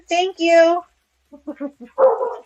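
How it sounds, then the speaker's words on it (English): Small dog barking in a series of sharp, close yips and barks, with a person briefly speaking afterward in an indoor setting. "I'm going to apologize in advance for all of his barking"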